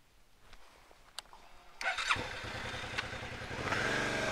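A V-Strom 650XT motorcycle climbing a forestry dirt road, its engine rising from quiet idle to a loud, steady rumble that swells toward the end, with a few sharp knocks early on.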